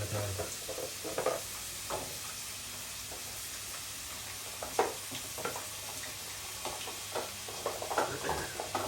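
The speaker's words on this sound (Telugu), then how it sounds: "ఎట్లా వేయించాలి బాగా డార్క్గానా లైట్గానా" Indian gooseberries (amla) frying in oil for pickle, a soft steady sizzle with occasional stirring scrapes and clinks, close and fairly quiet.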